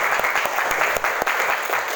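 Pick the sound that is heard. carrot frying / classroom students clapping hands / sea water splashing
classroom students clapping hands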